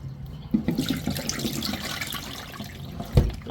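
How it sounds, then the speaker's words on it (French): Plantains washed by hand under cold running tap water in a sink while cooking Cameroonian goat kondrè, a steady splashing stream with a few louder knocks and sloshes, close and with no talking. "On lave bien les plantains avec de l'eau bien froide,"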